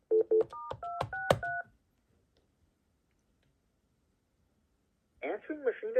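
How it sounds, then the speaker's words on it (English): A Panasonic KX-TG5583 cordless phone sounds a quick run of touch-tone dialing beeps, clear and close, followed by several seconds of silence before a voice comes in. "So I'm going to call my answering machine detection test number."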